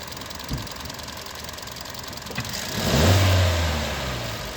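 A Kia Carens engine is revved once, climbing from a low idle to a loud, near mid-pitched rev around the third second and then easing back down.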